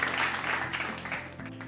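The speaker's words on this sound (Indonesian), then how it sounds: "Boleh kita beri tepuk tangan sekali lagi untuk para panelis dan moderator kita." Brief burst of audience applause for discussion panelists and a moderator, steady clapping under a low hum, fading slightly toward the end.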